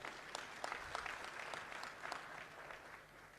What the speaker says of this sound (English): Shall we applaud for His Excellency?